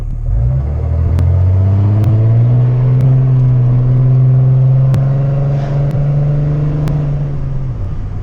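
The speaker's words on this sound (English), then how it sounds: "I'm driving a farm truck" A 2007 Dodge Mega Cab Cummins diesel farm truck, its exhaust system rotted off, drones loud and close while driving, a steady low rumble that rises in pitch as it accelerates and then eases off.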